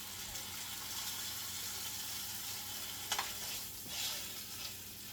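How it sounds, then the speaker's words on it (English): Meat sears in a pan for Christmas dinner, a steady broadband sizzle running throughout with a couple of brief clinks or stirring scrapes near the end; close and moderately quiet, no talking. "anytime you're searing meat, you always want to sear all the meat"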